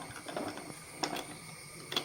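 A pressure cooker lid is twisted open once its steam has been let out, giving a few faint mechanical clicks and scrapes, with sharper snaps near the start and end against a quiet kitchen.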